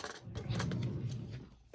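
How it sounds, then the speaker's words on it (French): A utility knife slicing open a wax-sealed envelope, a close, soft scraping and tearing drag of blade through paper lasting under two seconds, with a few faint clicks at the ends. "On va l'ouvrir Au cutter."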